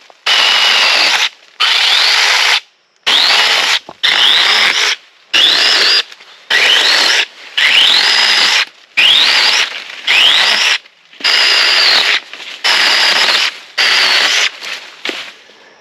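A TROOZY cordless 21V pole saw cuts tree branches in a dozen short bursts, each a loud rasping buzz stopping abruptly between cuts, close by with no talk.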